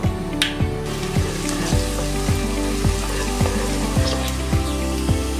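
Garlic and ginger fry with mustard seeds in hot coconut oil in a pan, a steady loud sizzle with a regular pattern of soft ticks and pops running throughout.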